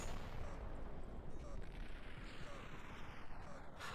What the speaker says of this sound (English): I hear all the explosions.